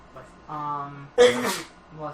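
A single sharp, loud sneeze bursts out between stretches of talking during a podcast-style conversation.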